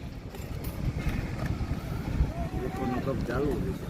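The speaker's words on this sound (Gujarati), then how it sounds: "પવનમાં કાકાનો કપ ઉડી ગયો" Outdoor wind at a street pani puri stall, heard as a steady, low, blustery rumble buffeting the microphone, with a voice briefly audible near the end.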